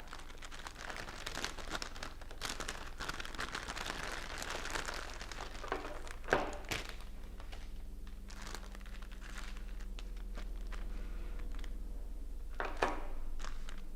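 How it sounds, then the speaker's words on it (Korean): Plastic film wrapping around craft materials for a wooden coaster-making kit is crinkled and torn open, a continuous crackly rustle with a few sharper tears, close by and without talk. "상자를 열어보면 재료들이 이렇게 비닐에 포장이 되어 있는데요. 한번 열어보도록 하겠습니다."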